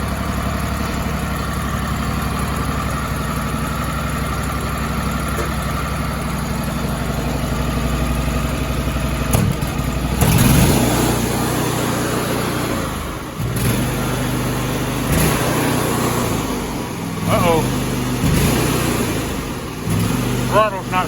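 A Kohler engine on a Grasshopper 227 mower runs at a steady, close idle for about twenty seconds, with a brief roughening partway through. Someone talks over the engine.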